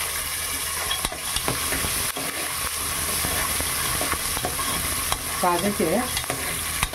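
Brinjal curry frying in a pan while being stirred, a catering-style dish; a continuous sizzle under repeated scraping stirs, close and steady, with a brief voice.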